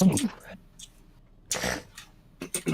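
A person sneezes abruptly in the middle of a tabletop D&D game session, a short sharp burst between quieter stretches, with other short vocal bursts and talk nearby.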